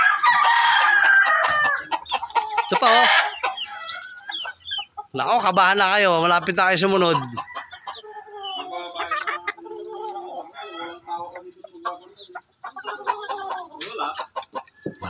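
Chickens on a farm cluck and crow loudly up close, with a rooster's call standing out, while people talk over the flock.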